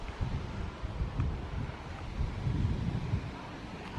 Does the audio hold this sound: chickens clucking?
no